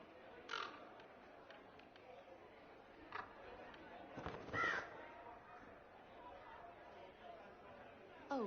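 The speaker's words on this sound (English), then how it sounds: "Birds like breadcrumbs." A few scattered crow caws ring out over quiet outdoor ambience in the fantasy game Dragon Age: Inquisition, with faint background chatter.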